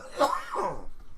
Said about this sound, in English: Add coughing to the list of stuff that's going on with this newly acquired cold.